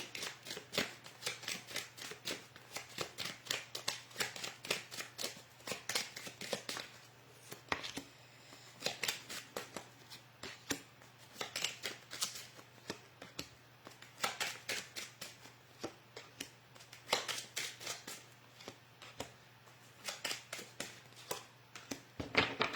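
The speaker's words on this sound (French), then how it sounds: "on va rajouter quelques cartes avec mon petit oracle de l'intuition" Oracle cards are shuffled by hand in quick bursts of soft riffling and flicking, repeated again and again, close but quiet, with no talking.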